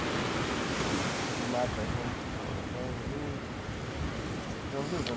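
Strong wind roars steadily across the microphone, a dense continuous rush with surf-like gusts and no pauses.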